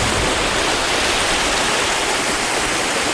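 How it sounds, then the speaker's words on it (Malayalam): Athirappally waterfall in Kerala gives a steady, dense roar of rushing water, close and continuous with no break. "മനോഹരമായ ഒരു വെള്ളച്ചാട്ടം."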